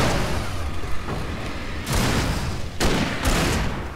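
A flare gun fires in the video game Alan Wake, a burst of booming blasts followed by several more loud whooshing pops in quick succession, with no talk over them.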